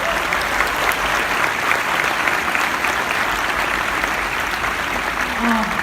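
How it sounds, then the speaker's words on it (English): A large audience at a San Diego Comic-Con Star Wars: The Clone Wars panel applauds in a dense, sustained roar of clapping that holds steady throughout, with a faint voice near the end. "let's give a round of applause for you."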